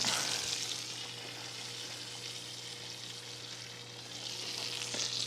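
Venison liver slices searing in butter and oil, giving a steady, moderately quiet sizzle with a broad crackling hiss and no voices.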